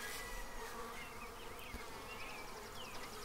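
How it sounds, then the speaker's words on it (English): Honey bees buzz steadily at an observation hive, a faint, continuous hum of many insects close by, with individual bees' whines briefly rising and falling. "how the bees themselves figure out where they're going to go"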